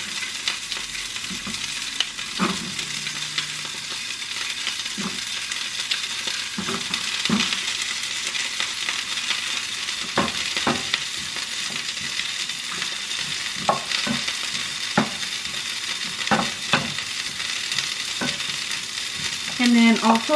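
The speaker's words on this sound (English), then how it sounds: "this of course is with butter, which you guys know that's probably 10 times better. It's gonna taste way better like that. So just saute it." Broccoli sautés in butter in a pan with a constant bright sizzle, punctuated by frequent sharp utensil taps and scrapes from stirring across the whole stretch. No one talks.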